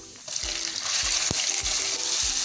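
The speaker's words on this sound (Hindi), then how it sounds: "एक मिनट तक हम चिकन को अच्छे से फ्राई करेंगे" Chicken pieces frying over high flame in a pan with browned garlic, a steady loud sizzle with a few scraping stirs of a spatula against the pan, no voices.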